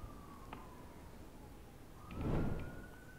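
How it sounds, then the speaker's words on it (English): A faint siren in the video game The House of Da Vinci 2 wails at a distance, its tone sliding steadily beneath a low background rumble, with a brief swell of noise near the end. "Sirens again."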